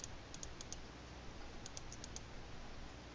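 A number is tapped out on a computer keyboard in a quiet room, two quick clusters of faint key clicks over a steady background hiss.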